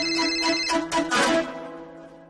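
A mobile phone rings close by with a short melodic ringtone of bright repeated tones that fades out after about two seconds.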